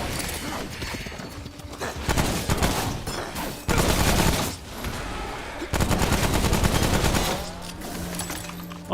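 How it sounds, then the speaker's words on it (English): Bursts of rapid gunfire ring out in the video game Remnant: From the Ashes, dense rattling volleys alternating with short quieter gaps, mixed with game effects and no clear talking. "That was some poor shooting."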